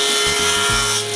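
Short burst of hand sawing through a wooden wall-mounted shelf piece held on a support: a few quick rasping strokes, close and fairly loud over a steady background hum.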